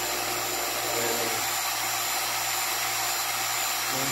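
Vacuum pump evacuating the refrigerant system of a wine chiller, a steady droning hum that runs unbroken and fairly faint throughout, with no voices over it.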